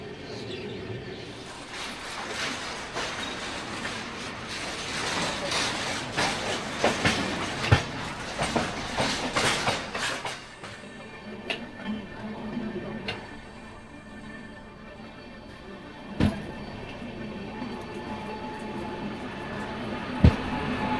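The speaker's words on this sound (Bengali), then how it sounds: "ট্রেন এসে পৌঁছলো আমাদের 2 নম্বর প্ল্যাটফর্মে।" An Amrit Bharat Express sleeper train pulling into platform 2 at Dankuni station, with a loud rumble and clatter of wheels that eases after about ten seconds into quieter platform ambience broken by sharp clanks.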